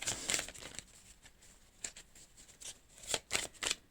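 Tarot cards being shuffled and drawn, a crisp papery riffle and slide of cards coming in quick close bursts with short pauses between, heard alone without voices.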